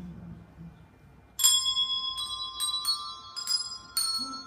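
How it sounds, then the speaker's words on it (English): Handbells ring out the hymn tune Trust and Obey at a Salvation Army soldier enrolment service, clear sustained tones struck one after another in a slow melodic sequence after a quiet pause. "I'm playing your bell"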